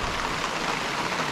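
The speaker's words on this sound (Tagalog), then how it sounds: "Ayan, lakas ng ulan." Heavy rain pours steadily at a campsite in Calabogie, Ontario, a dense unbroken hiss with no voices.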